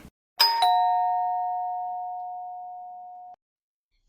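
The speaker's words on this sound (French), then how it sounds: "Soudain, la sonnette du manoir retentit." A manor doorbell gives a clear two-tone ding-dong, the second chime ringing out and slowly fading over nearly three seconds in an otherwise quiet room.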